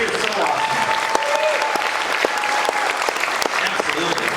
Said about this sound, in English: So let's just give them a big round of applause.